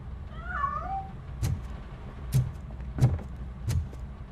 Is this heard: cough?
no